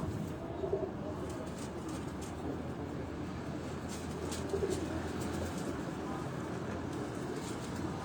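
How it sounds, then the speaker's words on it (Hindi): A pigeon of a show breed coos softly amid a steady, noisy outdoor background, with low murmuring throughout and no clear talk, the calls faint and partly buried. "इस कबूतर को भी आप देखेंगे"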